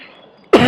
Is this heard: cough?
yes